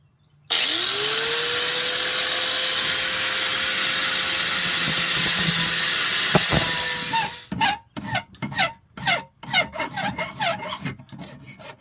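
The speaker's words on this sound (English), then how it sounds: "grind the bracket down in a circle around the light" An angle grinder spins up and grinds down a metal light bracket on a cafe racer motorcycle build, a loud continuous rasping whine for about seven seconds, then it winds down into short bursts and clatters.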